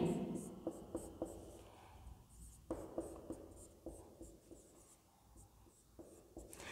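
Chalk or marker writing answers on a classroom board, with repeated short scratchy strokes and taps, fairly close and alone without talk.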